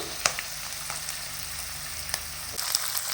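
Chopped onion and sweet corn frying in oil for tomato pasta give a steady soft sizzle with a few brief stirring clicks and scrapes, close and fairly quiet, with no talking.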